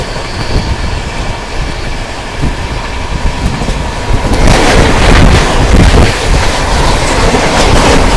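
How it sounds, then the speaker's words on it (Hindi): The Mahabodhi Superfast Express, running from Gaya to New Delhi, passes close by with a loud rushing roar and rhythmic clickety-clack of wheels over rail joints, swelling as the coaches go by with wind buffeting. "सामने से आ रही है गया से चलकर न्यू दिल्ली को जाने वाली महाबोधि सुपरफास्ट एक्सप्रेस"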